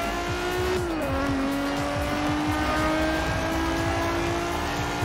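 Quartz Regalia car engine in Forza Horizon 4 droning steadily at a held pitch, dropping in tone after a second as it shifts, with continuous close engine buzz throughout.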